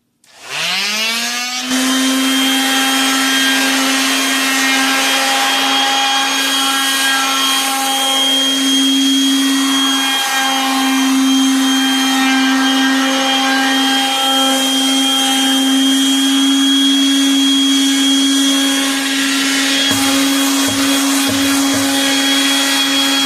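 A drill bores a hole through a wooden canoe paddle, spinning up quickly into a loud, steady high-pitched whine that holds for about twenty seconds with slight dips as it bites.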